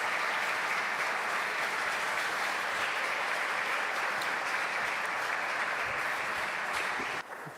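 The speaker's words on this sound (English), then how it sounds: "A big applause to Laura" Audience at a project's final event applauding, a steady, dense wash of clapping lasting about seven seconds before dropping off abruptly near the end.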